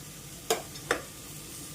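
A spoon stirring a beef mixture with coriander powder in a pan, two short scraping clinks against a soft background sizzle, close and clear with no talking.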